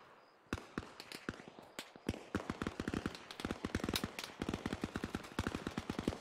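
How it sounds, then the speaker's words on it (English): Rapid automatic gunfire from a military shooter set in Arma Reforger, sustained bursts of sharp, loud cracks in quick irregular rhythm, near and dense, with scattered single shots mixed in and no talking. "I don't even know where people are firing at."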